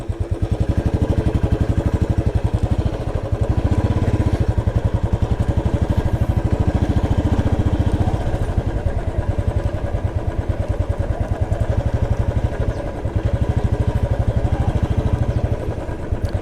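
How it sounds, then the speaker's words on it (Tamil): A motorcycle engine runs steadily and loud throughout, with a dense low throb and clattering pulse, idling or riding slowly along an off-road track near a pond in wooded countryside. "ஸோ பைக் வந்து திருப்பிக்கலாம்னு நினைக்கிறேன் நான்."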